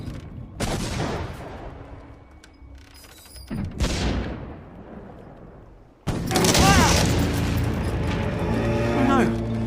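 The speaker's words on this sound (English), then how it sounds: "Someone's shooting at us." Gunfire rings out in the Lost Chronicles of Zerzura game as corsairs come under attack, with sharp broadband bursts followed by a denser loud volley toward the end, mixed with game sound and voices.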